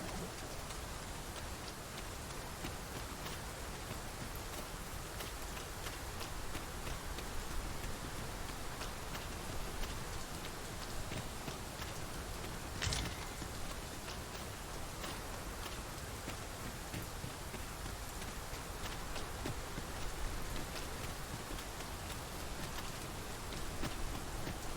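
Heavy rain falling in the Dragon's Dogma 2 video game, a dense, steady hiss of downpour throughout with faint ticking drops and one brief sharp crack midway.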